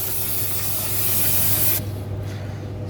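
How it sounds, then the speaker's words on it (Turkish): Brake cleaner aerosol sprayed onto car brake parts during a brake hydraulic hose replacement on a Fiat, a steady loud close hiss for nearly two seconds before cutting off, leaving a low hum of the workshop. "Balata spreyimiz buraları temizliyorum."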